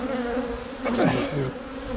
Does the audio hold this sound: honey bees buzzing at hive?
yes